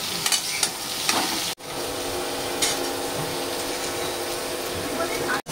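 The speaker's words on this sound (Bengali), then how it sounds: "আর এখানে এখন চলছে পটল ভাজা" Pointed gourd frying in a pan, with a steady hiss of oil and scraping stirring taps, broken by two brief cuts to silence.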